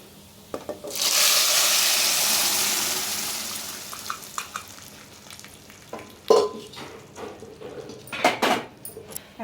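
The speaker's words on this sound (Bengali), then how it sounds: "এখন আমি এর মধ্যে লাউয়ের ডালটা ঢেলে দেবো" Bottle gourd lentil dal poured into a pan of fried onions bursts into a loud sizzle that slowly fades, followed by scattered stirring clinks and pan knocks.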